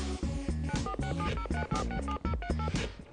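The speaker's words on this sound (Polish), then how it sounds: "Uwaga, jest telefon, może się uda." Rapid telephone touch-tone dialing beeps, a quick run of loud, clean DTMF tones in close succession, marking an incoming call to a Polish call-in quiz show with no voices over it.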